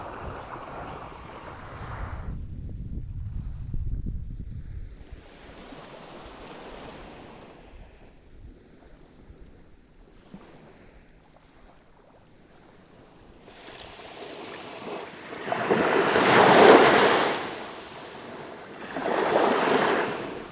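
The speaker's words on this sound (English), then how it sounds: "It's like a private beach here, straight out onto the water." Ocean waves wash onto a quiet beach at Hua Hin, Thailand, with soft surf and wind noise at first, then a louder wave breaking and rushing in near the end.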